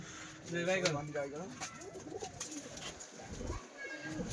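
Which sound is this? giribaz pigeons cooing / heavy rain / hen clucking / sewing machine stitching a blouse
giribaz pigeons cooing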